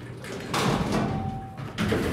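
Manual Courion doors on a 1992 Otis freight elevator at a Duke University campus center slide open with a close, rumbling scrape. A second slide follows after a short pause, over steady machine-room hum.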